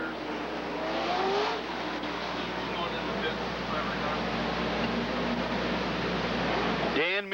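Race cars roar around Rockford Speedway during a MARS McLeod USA 100 event, a dense continuous wash of engine noise heard from a distance with a crowd-like hiss, ending in a sharp engine note.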